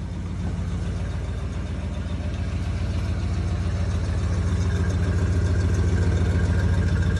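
A 1969 GMC big block V8 with dual exhaust idles as it warms up from a cold start, a loud, close, steady low rumble with a rapid even pulse and no voices.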